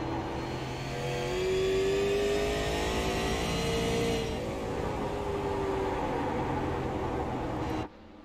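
A race car at a USA Super 50 event completes a timed lap, its engine droning steadily with rising and falling pitch as it passes, loud and continuous for nearly eight seconds before cutting off abruptly.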